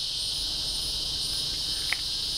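Steady high-pitched insect buzzing drones on without pause, with faint low rumble beneath and a single brief tick near the end.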